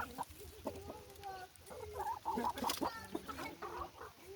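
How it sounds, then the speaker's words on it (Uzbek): Black laying hens clucking nearby in a farmyard, several birds giving repeated short clucks and drawn-out calls overlapping one another, fairly quiet and close. "Tug'ish bo'yicha chempion tovuqlarimiz."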